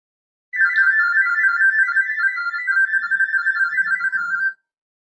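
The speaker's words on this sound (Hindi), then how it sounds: "उसके बाद कुछ बीप साउंड आपके सामने प्ले होगा।" An LG top-load washing machine emits a single sustained, warbling electronic diagnostic tone lasting about four seconds, clear and alone after a short silence.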